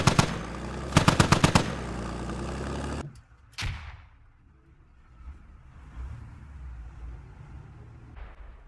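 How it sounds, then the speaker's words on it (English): Rapid automatic gunfire in the Squad military shooter game, several sharp bursts in quick succession followed by a single distant shot, then a quieter lull with a faint later pop. "trading shots"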